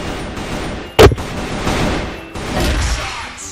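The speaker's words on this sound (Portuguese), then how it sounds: "Tem tiro tudo que é lugar" A loud gunshot from an AK-47 in the shooter game CrossFire cracks once sharply, surrounded by scattered quieter gunfire and game ambience.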